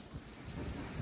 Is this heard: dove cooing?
no